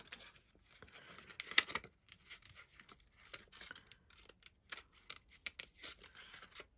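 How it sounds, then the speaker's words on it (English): Scissors snip around a butterfly panel glued onto a sheet of acetate, making faint, quiet, irregular cuts and crisp plastic crinkles close by, with no talking. "I've glued my butterfly panel onto a piece of acetate, and now all I need to do is snip around it"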